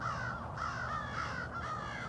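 Crows cawing outdoors, a run of repeated harsh caws at moderate distance over a steady low background hum, with no voices.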